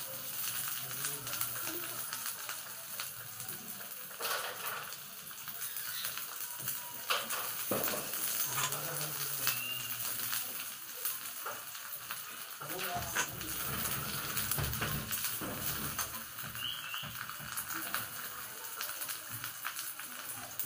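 Onions fry softly in a kadhai, a continuous low sizzle with occasional small clicks of stirring, faint and steady beneath intermittent talk.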